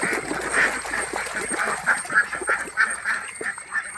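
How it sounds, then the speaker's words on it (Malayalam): Native Kuttanad ducks at the Kuruppanthara waterside in Kerala quack steadily and repeatedly. Their overlapping nasal calls are close and continuous, with a faint steady hum behind them. "നിങ്ങൾ ക്ലോസ് ആയി കണ്ടുകൊണ്ടിരിക്കുന്നത് നമ്മളെ നാടൻ താറാവുകളെയാണ്"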